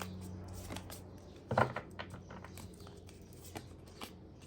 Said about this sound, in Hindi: देखते हैं 2 और कार्ड्स निकाल कर